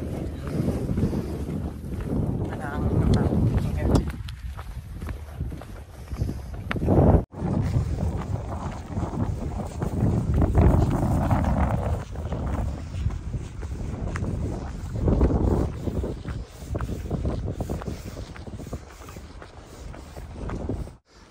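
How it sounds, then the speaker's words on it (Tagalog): Strong December wind at sea off Ajman buffets the microphone in heavy, uneven gusts, with a low rumbling roar of open water. "Lakas ang hangin."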